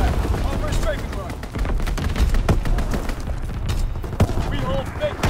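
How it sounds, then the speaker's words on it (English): Dense bursts of battlefield gunfire and booming impacts in the World War II shooter Call of Duty WWII, sharp cracks landing in irregular volleys, close and loud, over crackling background. "Call for a strafing run."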